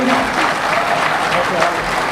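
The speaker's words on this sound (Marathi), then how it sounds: "सर्वांना जोरदार टाळ्या पाहिजेत" Audience applause at a diabetes patients' conference: a brief burst of dense, even clapping from a crowd, loud and close, with a voice talking over it.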